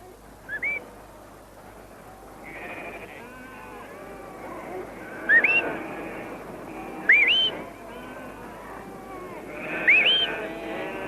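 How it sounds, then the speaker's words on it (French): A shepherd's sharp rising two-note whistles to a sheepdog repeat several times over a murmuring outdoor background, clear and piercing, spaced a few seconds apart. "En écoutant le sifflement de son maître"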